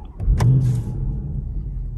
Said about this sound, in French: mais en fait pour démarrer la voiture on va tourner